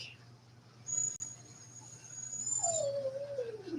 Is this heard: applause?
no